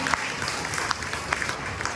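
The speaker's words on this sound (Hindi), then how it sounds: "देखिए जबरदस्त ताली स्वागत कीजिए।" Audience at a seminar clapping in welcome, a steady wash of hand claps with a few sharper individual claps poking out, moderately loud and continuous throughout.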